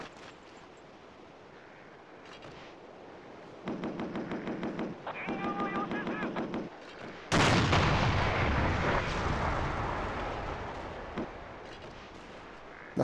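A knee mortar fires in a Battlefield video game. Rhythmic muffled bursts pulse for a few seconds, then one sudden loud blast follows, with a long rumbling decay.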